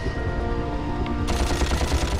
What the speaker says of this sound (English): now we're able to aim and fire